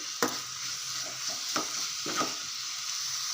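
A spatula stirs a carrot, grated coconut and jaggery laddu mixture with crushed almonds in a hot pan, producing a soft steady sizzle with a few distinct scraping strokes and taps, close up and without speech.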